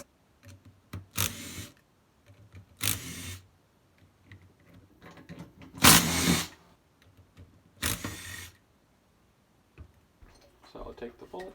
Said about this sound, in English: So I'll take the bolts out.